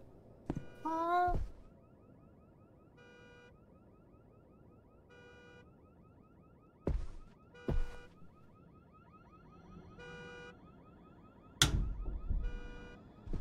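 A car alarm in a Halloween special cartoon repeats a short electronic beeping pattern at regular intervals, moderately loud, broken by occasional thumps and brief shouted voices.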